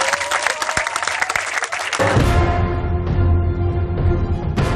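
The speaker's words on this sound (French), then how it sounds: "Je pense qu'il mérite également quelques applaudissements pour eux." Close, crisp applause at the end of a television show lasts about two seconds before music takes over and continues to the end.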